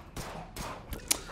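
Turret gunfire from the zombie strategy game They Are Billions, heard as several separate sharp, sparse shots spread over a moment, moderately loud with no voices.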